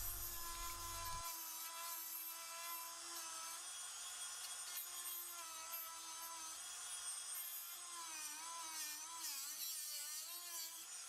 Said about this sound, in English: tool with a cutoff wheel and some delicate work with needle nose pliers is a good way to do this